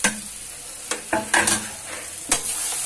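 Boiled eggs and potatoes are stirred in oil in a curry pan, giving a steady close sizzle with several scraping strokes of a spoon against the pan.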